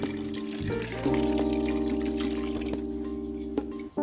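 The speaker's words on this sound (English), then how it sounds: "And then cover the clams about halfway up with water." Water pours into a pot over clams, a steady close trickle with faint drips and clinks, with a tonal hum underneath that fades near the end.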